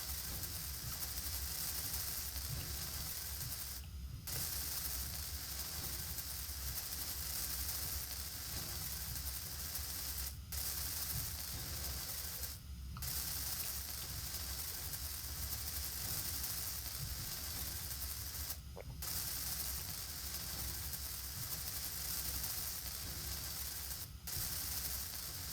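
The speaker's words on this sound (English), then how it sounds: "We'll just weld these all up." A welding tool in the Space Engineers video game builds up refineries, a steady hissing, crackling spray that runs continuously with a few brief gaps where it cuts out.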